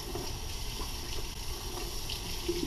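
Steady tap water runs under a sink faucet while fish is rinsed for yellowtail spring rolls, a continuous close gush with no talk.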